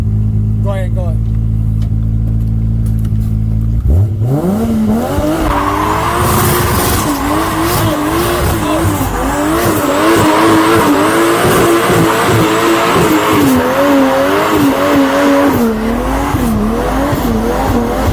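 A Mazda Miata spins burnout doughnuts: after a low idle, the engine revs hard and the tires squeal and screech loudly and continuously, with a crowd talking and cheering close by.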